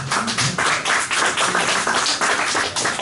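Applause from the audience at a homeowners' association board meeting, a sustained burst of many hands clapping close by, loud and steady for the whole stretch.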